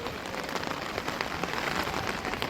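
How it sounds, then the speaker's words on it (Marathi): Heavy rain pours down steadily during a rubber-ball cricket match, a dense, hissing wash of drops pattering on a surface, continuous and fairly loud with no voices. "खूप पाऊस आहे"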